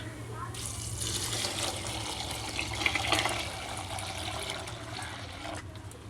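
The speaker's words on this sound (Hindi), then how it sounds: "पानी शामिल कर रहे हैं इस दे अंदर।" Fresh water pours steadily from a tap into a pot of soaked chickpeas for an egg chana dish, a continuous rushing splash that fills most of the stretch before cutting off near the end.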